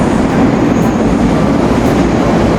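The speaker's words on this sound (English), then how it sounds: "A gray subway." A subway train rumbles steadily and loudly, a continuous low roar of rolling wheels and rail noise with no pauses or voices.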